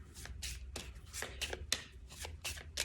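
Tarot cards are shuffled by hand in a quiet room, a soft, close riffle of rapid papery slaps and rustles repeating in short bursts.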